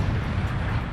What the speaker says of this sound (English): A roadside bomb.